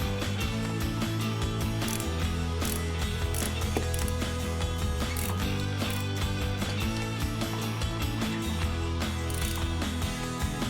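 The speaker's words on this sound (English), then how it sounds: "Next thing I'm going to do is loosen the upper triple clamp bolts with a 5mm hex." A 5mm hex tool ratchets steadily while loosening the upper triple clamp bolts on a Ducati Desert X motorcycle during a fork cartridge install, a dense rapid clicking close up over a constant low mechanical hum, with no voices.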